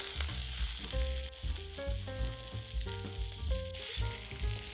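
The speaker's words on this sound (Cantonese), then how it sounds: "魚皮嘅一面先落鑊，我會用個重物咧壓住個魚柳，等個魚皮咧可以煎得均勻啲嘅" A salted fish fillet fries skin side down in a lightly oiled wok over medium heat, weighed down by a heavy object, a steady close sizzle running beneath soft background music.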